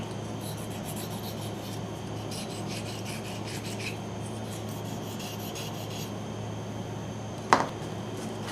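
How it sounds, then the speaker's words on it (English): A sharp knife or scalpel scrapes and rasps steadily along the edge of a wooden box for several seconds, quiet and close over a low background hum, with a single sharp click near the end. "I'll take a sharp knife or scalpel and just cut off that little bit of a whisker of a hair."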